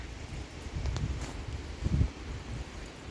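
Wind blows outdoors on a snowy day, a soft broad rush with two stronger gusts buffeting the microphone, fairly faint and with no speech.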